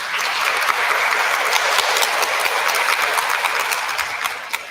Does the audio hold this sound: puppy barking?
no